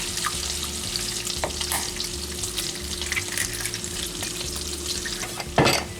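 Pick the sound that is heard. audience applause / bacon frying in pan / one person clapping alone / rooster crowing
bacon frying in pan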